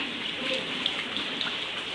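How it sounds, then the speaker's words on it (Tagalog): Steady patter of rain falling on a surface, a dense even hiss with a few brighter drops, no talking. "ang dami na namin tubig kasi nga ulan ng ulan"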